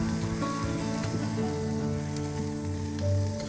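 A ribeye steak sizzles on a charcoal grill in a steady, soft hiss with faint crackles, continuous and close, with no talking.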